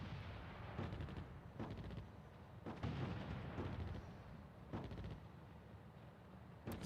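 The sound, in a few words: artillery fire in a North Africa war strategy video game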